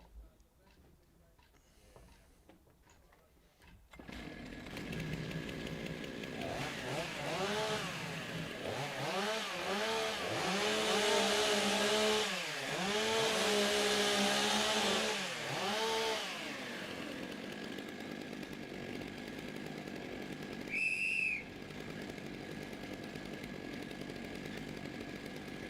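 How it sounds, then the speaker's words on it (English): Several stock chainsaws idle and rev in bursts as they warm up before a timbersports race, their engines rising and falling together loudly over crowd murmur and a commentator's voice. "We get those saws warmed up."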